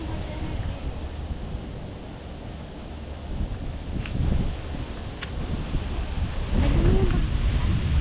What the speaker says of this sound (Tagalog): I love the breeze